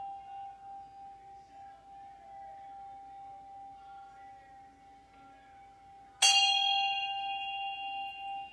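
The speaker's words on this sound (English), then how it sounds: "As you hear the gong ring" A gong is struck once during a full strawberry moon healing ceremony, a sudden bright clang that rings on with a long, shimmering sustain over a faint tonal drone.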